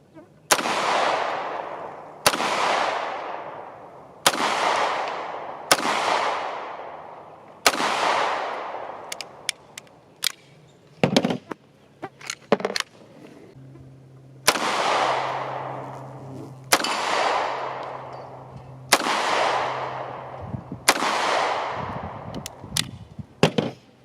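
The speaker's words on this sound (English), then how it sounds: "I plan on shooting a lot of mags today" A TEC-9 pistol fed from a 50-round magazine fires loud, sharp single shots about one to two seconds apart, with a quicker cluster of shots midway, each crack ringing out outdoors.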